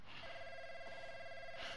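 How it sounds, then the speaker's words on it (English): Telephone ringing in the video game Call of Duty: Modern Warfare, a quiet, steady electronic ring tone that sounds continuously through the clip, heard alone. "This fucking phone is ringing again."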